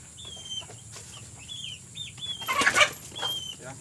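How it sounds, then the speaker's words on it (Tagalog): Farm ducks being fed a small handful of food give short, high quacking calls throughout, with a brief louder burst of flapping and scrambling near the end. "Ayan ang mga pato ko."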